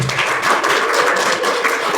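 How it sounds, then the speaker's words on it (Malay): A live audience at a business presentation in Penang gives a round of applause, a dense, steady wash of many hands clapping together throughout, with no pauses. "satu tepukan lagi sekali untuk Mr. Michael."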